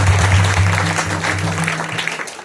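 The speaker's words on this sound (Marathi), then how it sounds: "बाबासाठी एकदा जोरात सगळ्यांनी टाळी वाजवायची आहे" An audience at a kirtan during an Akhand Harinam Saptah gathering claps loudly together in a dense, continuous burst, with a low hum underneath.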